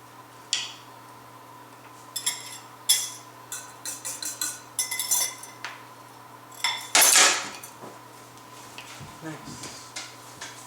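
Utensils clink and scrape against a bowl while chocolate chip cookie ingredients are mixed together, sounding as scattered, irregular metallic taps and rattles with a louder burst of clatter partway through.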